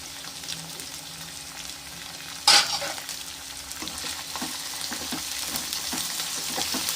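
Onions, ginger and green chillies sauté in a hot pan with a steady sizzle, a sharp spitting burst partway through and scraping stirring strokes afterward, close and fairly loud.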